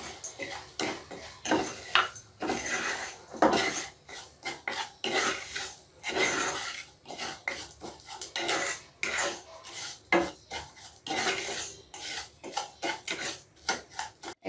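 Sugar and salt being stirred together in a pot for zarda, a sweet rice dish, with repeated scraping and rasping strokes of a spoon against the pot, close and steady in rhythm.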